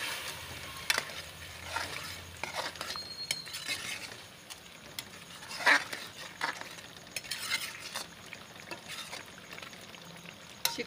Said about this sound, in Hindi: चिकन की बुनाई करके फिर मिलती हूँ आपसे।